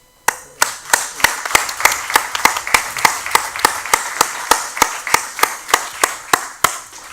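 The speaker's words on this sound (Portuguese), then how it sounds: "E depois das palmas" At a talk in Esposende, a single pair of hands claps loudly and close in a slow, steady rhythm, about three claps a second, with no voices.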